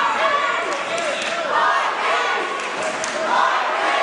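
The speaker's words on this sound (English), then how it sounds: "The crowd really getting behind Mikey Hussain." A crowd at a boxing match cheers and roars through the final seconds of the last round, a dense, sustained wall of voices with brief swells.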